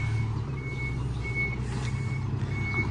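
A slide-on tow truck backs up with steady, evenly spaced reversing beeps over a low idling diesel rumble, close and continuous with no talk.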